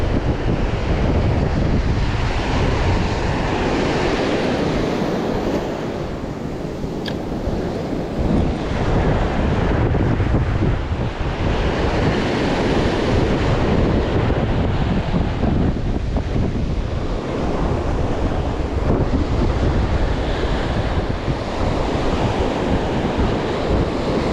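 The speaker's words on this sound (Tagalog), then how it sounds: "Sobrang lakas ng alon." Strong sea waves crash and churn without a break under heavy wind that buffets the microphone, loud and close the whole time, with no talk.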